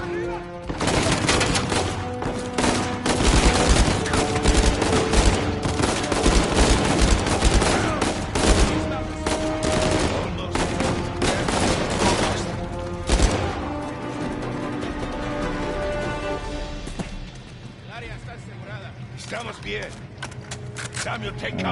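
Machine gun fire in Uncharted 4, rapid loud bursts and other gunshots clattering for most of the stretch, easing toward the end, with a voice talking over the action.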